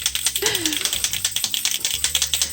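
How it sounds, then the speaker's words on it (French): A Posca paint marker shaken hard, its mixing ball clacking in a fast, steady rattle all through, with a brief sung voice rising over the start. "Brasse ton Posca."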